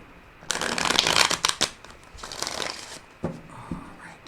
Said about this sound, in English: I'm going to put one more rifle on these